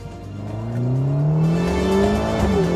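A 2021 Ferrari Portofino M V8 engine revs up with a rising growl that climbs steadily in pitch, loud and close, and holds near the top.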